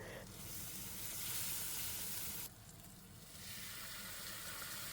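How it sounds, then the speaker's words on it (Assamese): Ground garam masala and other spices fry in a pan for chicken curry, giving a steady, close sizzling hiss that briefly softens partway through and then picks back up, with no talking. "এতিয়া মই এই গোটেই মছলাখিনি নিজে ফ্ৰাই হৈ পেলাই অকণমান উতলিবলৈ দিম"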